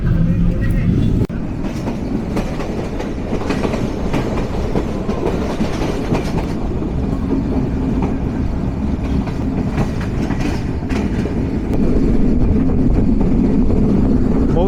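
The Padma Express intercity train runs at speed, giving a loud, continuous rumble with rattling clickety-clack from the railcar, heard from on board.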